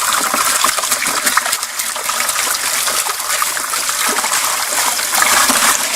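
Water rushes and splashes steadily over the metal riffles of a gold-prospecting highbanker, a constant loud gushing flow with gravelly rattling of dirt mixed in.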